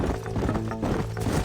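A horse in the video game Red Dead Redemption clops along at a steady rhythm, its hoofbeats close and continuous through a brief moment with no talking.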